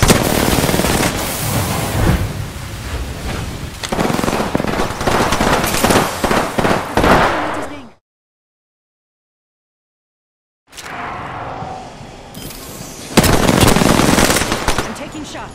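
Bursts of automatic gunfire in the Apex Legends video game rattle loud and dense, stop abruptly in a silent gap, then resume with more rapid shots.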